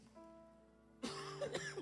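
A cough from someone getting over the last of a flu: one close, harsh burst followed by a few shorter rough coughs and throat-clearing sounds, heard alone after a quiet hum.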